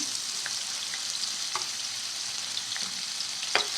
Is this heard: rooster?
no